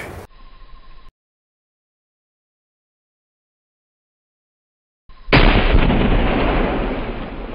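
A pickle barrel blows up after a stretch of silence: a sudden loud blast followed by a long, roaring, slowly fading rumble.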